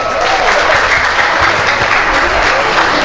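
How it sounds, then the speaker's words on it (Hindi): An audience at the Rajo Kumari reality show semi-final applauds, a loud dense clatter of many hands clapping that runs steadily for the full few seconds. "जोरदार ताली जाओ।"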